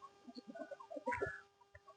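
Several quiet, short clucks from chickens in quick succession, fairly soft and close, with a brief pause before one last cluck.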